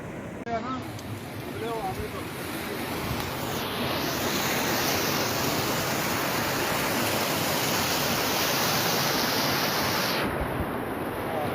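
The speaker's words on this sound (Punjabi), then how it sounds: "ਬਹੁਤ ਜ਼ਿਆਦਾ ਪਾਣੀ ਆ ਰਿਹਾ ਜੀ" Floodwater roars through a seasonal stream, eight to nine feet deep after fifteen hours of continuous rain, in a loud, unbroken rush, a dense steady wash of churning water filling the scene from start to finish.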